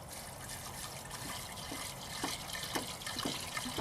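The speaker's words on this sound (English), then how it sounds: "So we're going to go with a half a gallon of water." Half a gallon of water poured into a mixing container while a fireball mixture is prepared; a faint, steady liquid splashing and trickle runs throughout, with soft drips and small splashes toward the end and no talking.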